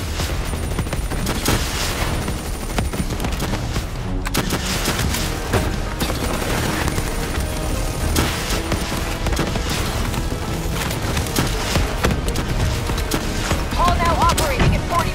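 Sustained gunfire in the Black Ops 3 campaign mission Demon Within, dense automatic bursts and booming impacts running continuously and loudly for the whole stretch, with combat chatter from in-game voices mixed in.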